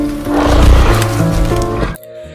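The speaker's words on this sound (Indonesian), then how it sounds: "hanya ada bayangan dan terdengar seperti suara singa yang aneh" A strange lion-like monster roar on an island in a film, a loud, rough, sustained growl with layered tones that swells and then cuts off abruptly near the end.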